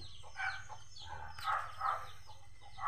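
A captured wild red junglefowl, known as labuyo, calls in short clucking and crowing bursts, fairly close and clear, with no talk.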